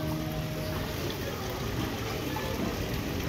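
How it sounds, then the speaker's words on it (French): A small waterfall at an amusement park pours steadily, a soft, continuous splashing hiss heard from a short distance, fairly faint and unbroken throughout. "là-bas, il y a une petite cascade."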